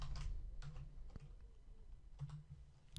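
Quiet keystrokes on a computer keyboard, a few soft, irregular clicks and taps spread over about three seconds, close and faint with no talking.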